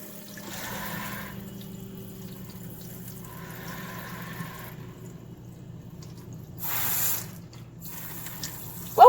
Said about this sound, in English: turn on the water and rinse